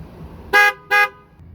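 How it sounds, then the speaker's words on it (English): A truck horn sounds two short, loud, tonal honks in quick succession during an inspection, close by, with quiet idling background between and after. "Horn."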